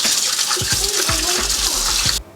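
Cold tap water gushes steadily over hot boiled eggs in a farm kitchen, a loud continuous splashing stream with a few low knocks, cutting off abruptly at the end.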